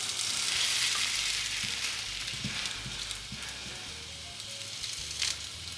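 Takoyaki batter sizzles steadily in a frying pan, a continuous bright frying hiss with faint low pops and small stirring knocks, close and even throughout with no talking.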